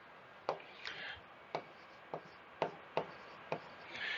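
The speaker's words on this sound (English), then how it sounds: "I think I'm going to write that." Pen or marker strokes on a board or paper during a geometry lesson on probability: a series of short, separate scratchy taps and brief rubs, close and fairly quiet, with no talking.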